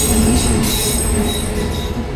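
A train rolls past a closed level crossing on a hill road near Kalimpong among tea gardens, a loud steady rumble of wagons with faint wheel squeal, close by and continuous throughout.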